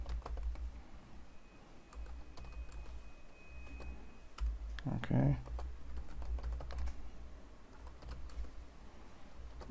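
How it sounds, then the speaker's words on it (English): A computer keyboard clicks as a password is retyped: soft, quick keystrokes under a quiet, steady background hum, with one louder burst of activity midway. "here you just need to retype your password"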